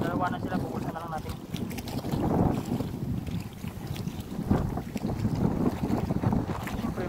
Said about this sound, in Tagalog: Ang lakas talaga mga kaludoy yung hangin.